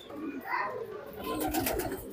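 Pigeons of old breeds kept in a loft coo softly in overlapping low burbles, with faint chirpy flutter toward the end and distant background noise.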